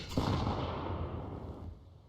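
SMG gunfire during a Counter-Strike gun round, a dense burst of rapid shots starting sharply and holding loud for about a second and a half before tapering off, with no talk over it.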